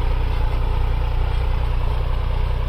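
A New Holland 6510 65 hp four-wheel-drive tractor engine runs steadily, a loud, close diesel rumble with an even low throb and no speech.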